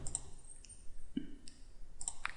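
Computer mouse clicks sound during CAD modelling in Inventor software, a few sharp, quiet clicks spaced irregularly against a faint background hum, with no speech.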